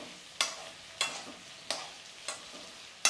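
Green chillies and onions sautéing in a pan for a mutton broth, five sharp spatula scrapes at regular intervals over a low sizzle, near and crisp, with no one speaking.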